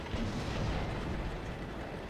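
Continuous booming artillery barrage in the tank battle game World of Tanks, a dense, rumbling wash of low explosions that stays loud and steady throughout, with no talking.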